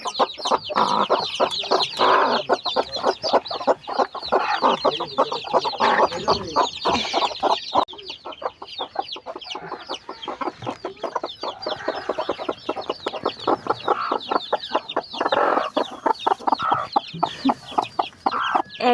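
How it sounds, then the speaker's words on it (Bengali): Three hens cluck continuously with their newly hatched chicks, a dense, close chorus of rapid clucks and chick peeps that keeps going without pause, loud and busy. "একসাথে 3টে মুরগির সাথে আমার এই যে মুরগির বাচ্চা বের হয়েছে"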